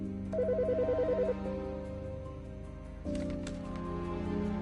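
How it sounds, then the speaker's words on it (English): A telephone rings in the video game Autopsy Simulator, a repeating electronic ringtone trill at moderate level, then steady tones continue with no talking. "The fucking phone."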